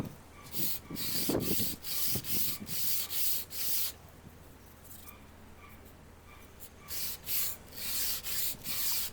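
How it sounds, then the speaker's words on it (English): Hand sanding of a wooden guitar scarf joint, outdoors. Quiet, rhythmic back-and-forth strokes of sandpaper on wood come in bursts, with a short pause in the middle and no talking. "really this is just a case of sand it a bit"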